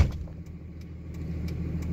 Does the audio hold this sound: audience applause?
no